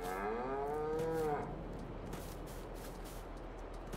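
A cow in Farming Simulator 22 gives one drawn-out moo lasting about a second and a half, then fades into steady low ambient game noise.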